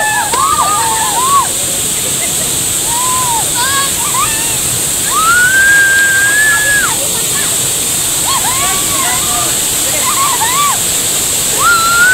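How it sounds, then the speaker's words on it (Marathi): A dam waterfall rushes in a steady, loud roar of falling water, with whistles or chirps rising above it now and then. "या धरणावरील धबधबा प्रवाहित झाला आहे"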